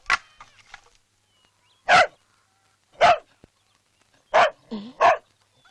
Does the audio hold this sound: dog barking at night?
yes